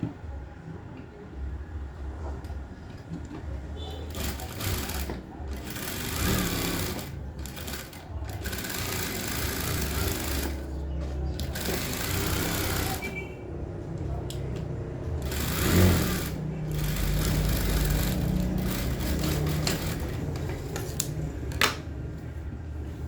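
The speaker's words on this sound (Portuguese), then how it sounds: "eu já vou costurar essa parte aqui do botão" A sewing machine stitches the button placket of a women's shirt in repeated bursts of rapid mechanical whirring, pausing briefly between runs, close and fairly loud with faint handling noises.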